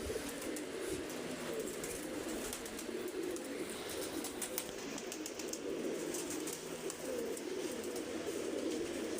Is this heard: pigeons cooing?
yes